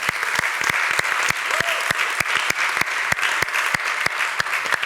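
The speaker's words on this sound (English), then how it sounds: "let's give a big round of applause to Emilie Bessard" Applause from a conference audience at a documentary industry session in Barcelona, a smaller group clapping with distinct, sharp individual claps in a brisk, steady patter at moderate volume.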